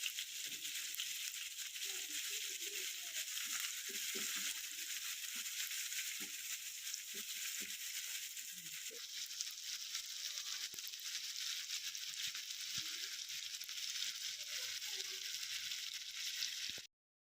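Chopped onions frying in leftover fish oil for a rui fish curry make a steady, faint hiss with scattered soft pops and stirring clicks, continuous until it cuts off at the end.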